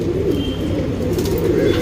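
Surmai and Tambral pigeons, a male and a female offered for sale, coo continuously in a steady low murmur with overlapping soft calls, close by and fairly loud, with no one speaking.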